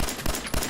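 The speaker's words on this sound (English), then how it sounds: "where the fuck did those explosions come from?" Rapid bursts of explosions and gunfire from the video game Fallout 4, loud and close, several sharp blasts in quick succession.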